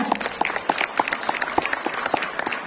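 Applause from an audience at a children's music competition ceremony in Nur-Sultan, a steady burst of many hands clapping, fairly loud and close, with no talk over it.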